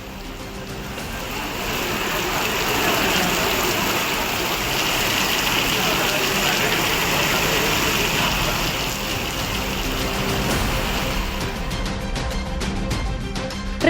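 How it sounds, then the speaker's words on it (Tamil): Widespread rain falling across Pudukkottai, a steady broadband hiss of downpour that holds evenly for the whole stretch, with no voices heard over it. "புதுக்கோட்டையில் பல்வேறு பகுதிகளில் பரவலாக மழை பெய்தது."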